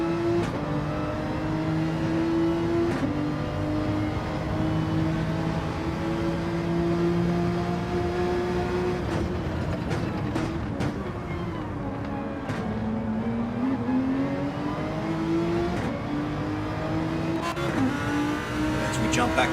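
Onboard engine of a GT3 race car in a sim racing game at the Red Bull Ring, droning loudly as it revs up through gears, with pitch climbing and dropping at shifts and braking, under steady commentary.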